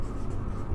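Pen moving across paper while a maths solution for a class 12 exercise is written out, a short continuous scratchy rub, close and steady, without speech.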